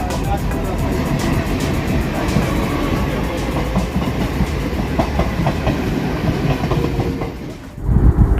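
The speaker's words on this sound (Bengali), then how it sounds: "অবশেষে আমাদের ট্রেন হাওড়া স্টেশন থেকে ছেড়ে দিল।" The Howrah–Haridwar Doon Express (13009) pulls out of Howrah station, a loud rumbling roll with a steady clickety-clack of wheels heard from inside the train, faint voices beneath, then a sudden dip and a rougher burst near the end.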